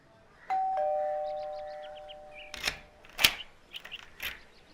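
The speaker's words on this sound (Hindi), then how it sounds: "उस दिन सुबह घर की घंटी बजी" A house doorbell rings with a clear two-tone ding-dong that rings out and fades, followed by a few soft knocks and clicks nearby.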